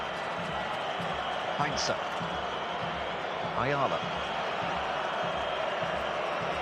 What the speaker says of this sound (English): There's a rogue whistler in the crowd, by the way, if you can hear that